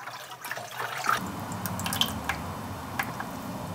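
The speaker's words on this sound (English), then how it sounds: "pull this top bucket out and the water is going to drain out below" Water draining out of a top sprouting bucket into one below in a poultry fodder setup, a steady close trickle with light drips and splashes running throughout.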